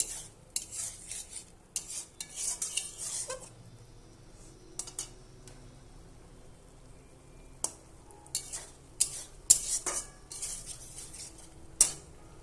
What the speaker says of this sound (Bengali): আলু সেদ্ধ হয়ে গেছে, এবার একটু কষিয়ে নেব ভালো করে।